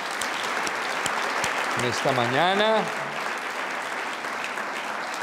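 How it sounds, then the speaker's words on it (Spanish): A church congregation keeps up steady applause through a morning service while someone speaks briefly over it. "démosle un fuerte aplauso al Señor"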